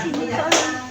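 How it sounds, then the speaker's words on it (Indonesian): Students in a junior high school class clap their hands, giving a couple of sharp, close claps in under a second while voices chatter in the room. "Tepuk tangan."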